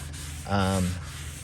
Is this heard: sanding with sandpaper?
yes